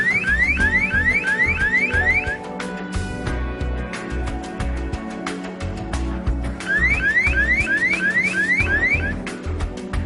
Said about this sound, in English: A light will start to flash and an acoustic alarm will go off as well